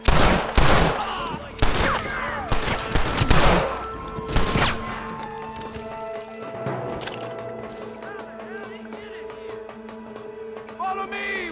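Gunfire in the Red Dead Redemption video game, a burst of loud, rapid overlapping shots up close that thins into scattered shots and echoes, with game voices in between.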